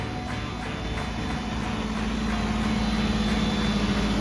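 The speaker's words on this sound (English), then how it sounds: "Nice big old John Deere tractor." A big old John Deere tractor engine runs at a steady, low, droning idle nearby on a sod farm, the rumble growing slightly louder and holding constant throughout.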